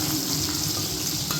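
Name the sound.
potatoes frying in a pan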